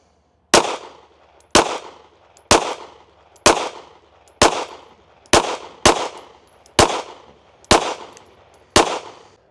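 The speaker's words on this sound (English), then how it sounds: "let's shoot another 10-shot group at that middle right target" A pistol fitted with a CVLife WolfCovert Mini green dot fires a ten-shot group at a target, ten loud, sharp reports at a steady pace about one per second, each trailing off briefly before the next.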